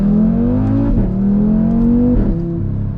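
Loud Audi RS3 with dual-clutch automatic pulling onto a highway, engine rising steadily through two quick upshifts, close and dominant with no talk over it.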